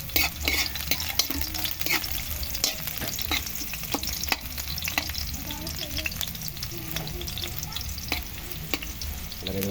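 A kawali pan stir-fries squash and string beans in coconut milk before anchovies are added. A constant soft sizzle runs underneath scattered clicks and scrapes from stirring, moderately close, with no talking.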